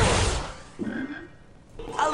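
A chocolate frog in a Harry Potter video game croaks, with two short, clear ribbiting croaks after a brief burst of game noise, alone without talk.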